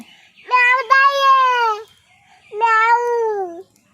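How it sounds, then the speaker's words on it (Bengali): A domestic cat meows twice, close and clear: a long drawn-out call, a short pause, then a second, slightly shorter meow that falls in pitch. "ও ম্যাও ঘুমোচ্ছ তুমি সত্যি সত্যি"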